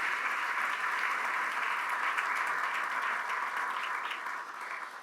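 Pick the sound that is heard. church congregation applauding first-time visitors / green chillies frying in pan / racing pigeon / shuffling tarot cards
church congregation applauding first-time visitors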